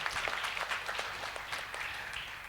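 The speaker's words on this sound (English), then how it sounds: "Give him a round of applause" An audience at a live budget analysis event claps continuously in a broad, even round of applause from many hands, fairly close and sustained without talk over it.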